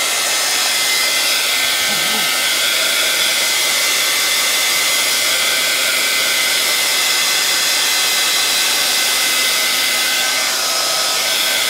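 A hair dryer blows hot air over wet raw-umber paint on a mixed media animal portrait, a loud, constant close-up whoosh that runs unbroken from start to finish with no talk.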